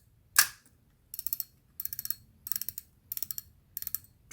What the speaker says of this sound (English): Drag sounds good. It's got some reasonable noise to it for a vintage reel.